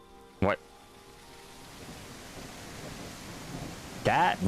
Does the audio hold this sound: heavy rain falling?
yes